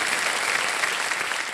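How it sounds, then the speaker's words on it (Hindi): Studio audience on a television quiz show applauds to welcome a contestant, a steady, dense wash of clapping filling the short moment with no voices over it. "आपको एक बार फिर तालियों के साथ इनका स्वागत"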